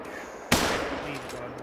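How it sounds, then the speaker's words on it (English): A single sharp gunshot rings out in TheHunter: Call of the Wild, a big-game hunting game with an elk stampede, with an abrupt loud crack that decays slowly into a rumbling tail. "I just heard a gunshot."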